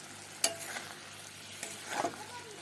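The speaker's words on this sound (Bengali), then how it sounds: "ভালো করে একটু নাড়িয়ে দিলাম।" Palak paneer with kasuri methi is stirred in a pan on the stove, a sharp spoon scrape followed by soft sizzling and another scraping stroke, quiet and close.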